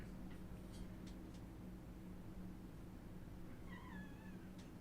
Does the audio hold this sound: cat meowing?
yes